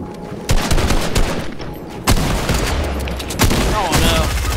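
Sniper gunfire in the Fortnite video game, loud close shots cracking at about half a second, two seconds and three and a half seconds, each followed by a lingering rumble of game noise.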